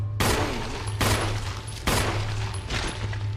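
Handgun fire in the video game Resident Evil, four loud sharp shots spaced about a second apart, each with a short echoing tail over a low steady background hum.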